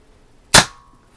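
A Daisy Red Ryder BB pistol fires one sharp, close crack with a quick fading tail, alone in an otherwise quiet moment.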